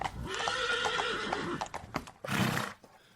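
A horse neighs in a long, quavering whinny, followed by a few hoof clip-clops and a second shorter neigh, close and clear as a sound effect in a spoken fantasy story, with no talking over it.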